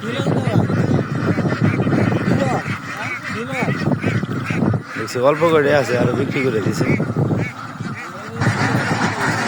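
Farm ducks from a flock of about 1400, just up from the water into their shed, make loud, repeated honking quacks close by while someone talks over them.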